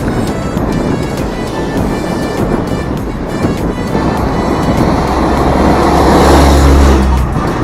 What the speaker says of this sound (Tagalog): Oh, daming truck.